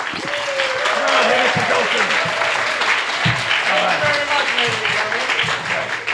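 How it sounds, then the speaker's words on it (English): Audience applause greets two performers taking the stage for a Jolson and Durante tribute act, with a voice talking loudly over the clapping throughout. "start them out with a really big round of applause, Brad Kay and Rick Rogers"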